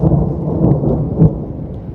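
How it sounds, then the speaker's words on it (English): Low rumbling thunder from a storm during a storm chase, a steady deep roll lasting the whole moment with a swell near the middle, no voices over it. "It's thundering in there."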